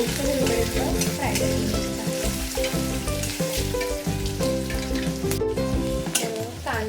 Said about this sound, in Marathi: कांदा मिरची वगैरे चांगलं फ्राय झालेलं आहे